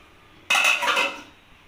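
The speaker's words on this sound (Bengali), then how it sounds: "ঢাকাটা দিয়ে একটু ঢেকে দেবো।" A metal lid is set onto a kadai of simmering pointed gourds, giving one sharp clattering clink that rings briefly and fades in a quiet kitchen.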